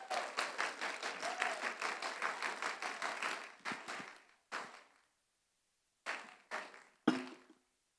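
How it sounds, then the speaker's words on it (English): At a cosplay convention closing ceremony, an audience claps steadily and fairly close, then the applause thins into a few separate sharp claps with quiet gaps between them. "Let's give all of you guys a big round of applause."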